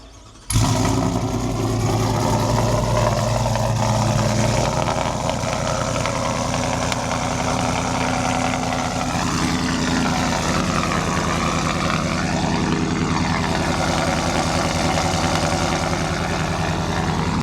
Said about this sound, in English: let's get a little startup here on my truck